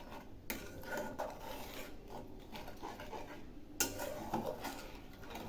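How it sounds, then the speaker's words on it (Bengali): Coconut milk and green coconut water being stirred in a pan for prawn curry, with a spoon scraping and clinking against the metal and a few sharper knocks, steady and close. "এবার আমি এর মধ্যে দিচ্ছি নারকেলের দুধ, আর দিচ্ছি ছোট 1 বাটি ডাবের জল। একটু নেড়ে দিচ্ছি।"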